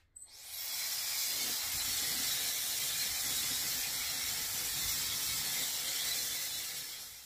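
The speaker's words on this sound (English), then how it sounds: "I'm gonna dry it off real quick, but not blowing it in any particular direction" A hair dryer blows on a wet white beard, a loud steady rushing hiss that starts abruptly and runs continuously close up, with no talking.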